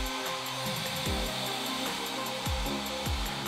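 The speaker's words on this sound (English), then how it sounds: "I'm gonna use a blow dryer on a cool setting and I'm going to blow dry my brows" A blow dryer on its cool setting drying eyebrows gives a steady, close whooshing hum with no break for the whole stretch.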